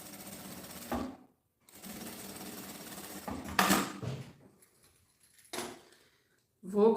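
A domestic sewing machine with a presser foot stitches a small piece of fabric in short bursts separated by pauses, whirring close by at moderate volume.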